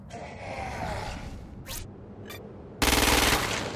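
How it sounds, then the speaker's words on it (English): Gunfire in Crackdown 2 as the player shoots a freak during a training exercise. A sustained stream of shots is followed by a brief pause with two sharp whooshes, then a loud, rapid automatic burst at the end. "Use precision targeting to shoot the freak's head or legs."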